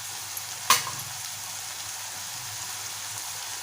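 Sprouted moong frying in a pan as spices go in: a steady, close sizzle holds throughout, with one sharp knock or clatter early on and no talking.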